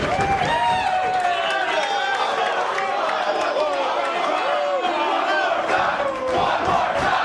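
Wrestling crowd at a PWG independent show during Johnny Gargano versus Tommaso Ciampa, a dense roar of cheering and chanting voices filling the room steadily for several seconds, loud and continuous with shouted calls rising out of the mass.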